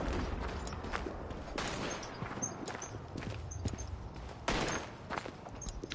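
Gunfire in the WW1 eastern-front video game Tannenberg, with machine-gun bursts and scattered shots forming a dense, continuous crackle of battle, loud and close with a few sharper reports standing out.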